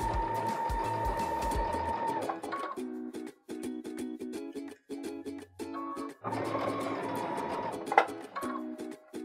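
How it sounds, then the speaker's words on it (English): Straight-stitch sewing machine running at center needle position, stitching tucks into a neck tie being upcycled into a scarf: bursts of steady mechanical whirring separated by short pauses, with faint talk in between. "I'm using a straight stitch, center needle position, and stitching right over these."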